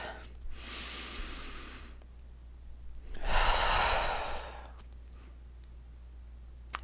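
A single person takes a slow, deep breath, a soft airy inhale followed by a longer, fuller exhale, heard close and quiet against a low steady background hum.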